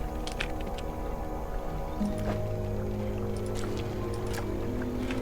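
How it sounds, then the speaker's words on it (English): In the video game Dredge, waves slap against a platform over a low steady boat rumble, with soft wet splashes and sloshes recurring throughout. "The waves slap up to the platform where you laid the aberration"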